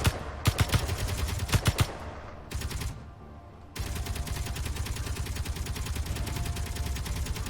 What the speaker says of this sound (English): Shooting at stuff on the ground again.